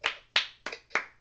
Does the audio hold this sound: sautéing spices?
no